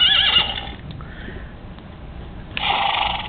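A person imitates a horse neigh, giving a wavering high whinny-like call, then a short pause and a second brief whinny sound.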